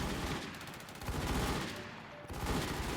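Rapid bursts of gunfire in a Thai clan-war shooter game, dense and continuous across the clip with a brief lull near the end before firing resumes, loud and close with no talk.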